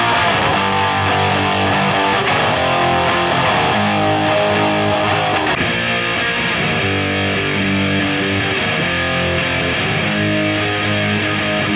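Heavily distorted electric guitar riffs through a Quad Reverb speaker cabinet, loud and continuous with chugging rhythmic chords and no voices.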